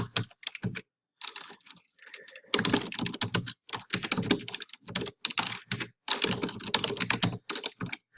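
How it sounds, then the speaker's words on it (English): Random words typed on a computer keyboard, close and crisp, with bursts of rapid clicking keystrokes broken by short pauses, no one speaking. "I'm just going to type in some random words here."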